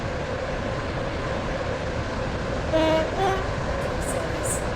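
Metro train in the Stepford County Railway game rumbling steadily along, with a brief tonal horn-like toot near the end and faint high chimes after it.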